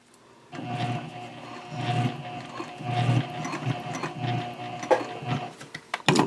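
A sewing machine stitches on a bag connector for a messenger handbag, sewing 1/8 inch from the edge at a 3.5 stitch length. Close, whirring mechanical runs come in uneven bursts, with a few sharper clicks near the end.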